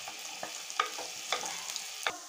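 Chopped onions with curry leaves frying in a pan for Nagarai fish curry, a steady soft sizzle broken by a few sharp scraping stirs of a spoon, close and alone.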